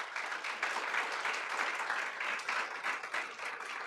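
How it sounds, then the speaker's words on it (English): A university faculty research celebration audience breaks into a round of applause, a dense, steady patter of many hands clapping at moderate volume and sustained throughout without pause. "I want to give a wonderful round of applause"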